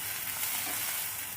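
Cauliflower florets and a cup of peas sizzle steadily in a hot pan, a continuous close frying hiss with faint stirring scrapes underneath and no voices.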